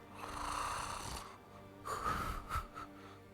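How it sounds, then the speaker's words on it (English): Gentle snoring from a sleeping man, two slow drawn-out wheezy breaths separated by a short pause, close and fairly soft. "snoring"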